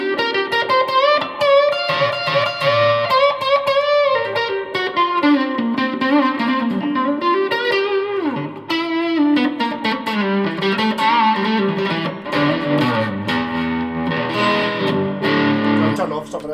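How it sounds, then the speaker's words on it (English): A Squier Affinity Telecaster electric guitar played through a Boss distortion pedal, sustained chords and lead notes ringing loud and continuous with thick, driven tone and brief pauses between phrases. "So just got a wee bit of distortion from the Boss"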